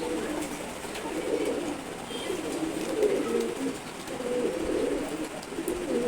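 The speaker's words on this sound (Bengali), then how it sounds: "অসাধারণ একটা কবুতর, দেখেন মাশাআল্লাহ" A male pigeon coos repeatedly nearby in low, soft rolling phrases, with faint background noise.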